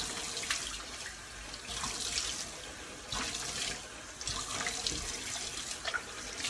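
Tap water running steadily into a sink during face washing, close and fairly loud, with splashes and hand movements breaking through the flow every second or so.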